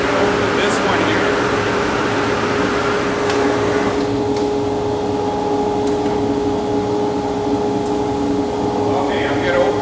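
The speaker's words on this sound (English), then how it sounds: "what's making the most noise is the airflow, just because the suction is so great" A Felder RL160 dust collector pulls air with a steady, loud rushing drone and a faint hum, continuous and near. A brief clunk or two breaks in over it.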